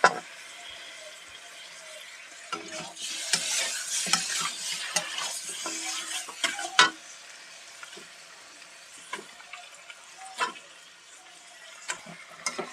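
Washed chicken pieces go into hot spice masala a little at a time, sizzling as a spoon scrapes and stirs them in irregular bursts, with quieter stretches between the strokes; no talking.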